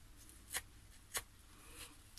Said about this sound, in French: on prend les ciseaux, on les ouvre et en fait on vient gratter le bord